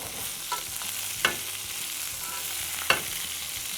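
Beef tenderloin is basted in a pan with foaming butter, garlic, fresh thyme and rosemary, giving a soft, steady sizzle. A few sharp spoon clinks mark each baste.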